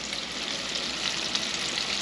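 Shrimp fry in a pan with a steady, close, even sizzle that holds throughout.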